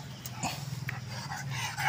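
A dog whimpers and gives short yips and barks close by on a rural farm, with a steady low hum running underneath the brief, uneven calls.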